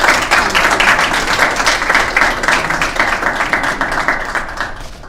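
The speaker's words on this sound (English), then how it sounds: "So please give him a wonderful round of applause." Audience at a student government meeting applauds a guest speaker, a loud, dense wash of clapping that holds steady for about five seconds before thinning slightly at the end.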